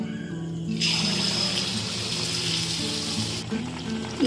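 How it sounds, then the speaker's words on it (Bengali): Ripe papaya malpua batter drops into hot oil over a low-to-medium flame and bursts into a loud, steady sizzle, a bright crackling hiss held close up for several seconds before easing back. "এবার গ্যাসের ফ্লেমটাকে লো টু মিডিয়াম রেখে আমি মালপোয়াগুলো ছেড়ে দেব"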